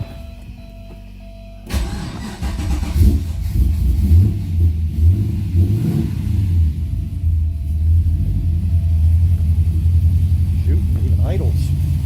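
An LS V8 engine in a Porsche 944, with a newly installed carburetor, cranks and fires up, then settles into a loud, deep, steady idle with a lumpy rumble. A voice talks over it.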